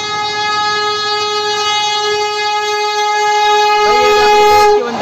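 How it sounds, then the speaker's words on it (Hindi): A Vande Bharat premium express train rushes past at close range, a loud sustained roar of wheels and air with a steady sustained horn-like tone rising into a brighter burst near the end. "ये अपनी प्रीमियम ट्रेन वंदे भारत को पास देते हुए"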